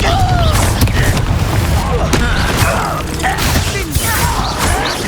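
Incendio fire spell cast during combat in the video game Hogwarts Legacy: a loud, dense burst of crackling, whooshing magic with thumping impacts and mechanical clatter, continuous and close throughout.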